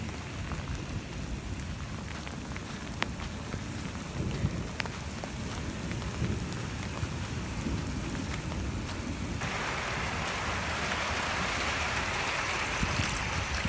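Steady monsoon rain pours down with a dense, continuous rushing wash of water flowing down small paths and pooling, loud and close, with no voices.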